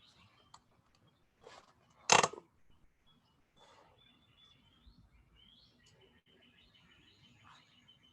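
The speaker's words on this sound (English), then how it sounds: "Sometimes I like to sit out here and listen to the birds." Birds chirp faintly outdoors in a calm setting, with scattered short tweets and thin calls spread across quiet background and one brief sharper burst early on.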